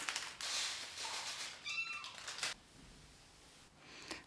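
A cat meows nearby, a short rising-falling call, amid soft rustling and clicking in a quiet room.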